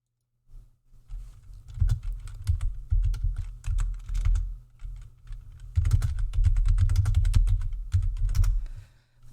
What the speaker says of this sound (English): I'm just typing into the search box on the Internet Archive